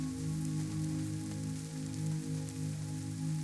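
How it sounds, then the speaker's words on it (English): Soft, steady rain pattering against glass, a continuous even hiss with a low hum beneath it. "The rain continues softly against the window."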